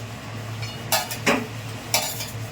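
A utensil stirs eggs into a thick egg curry in a pan, giving three sharp metallic clinks and scrapes over a low, steady hum.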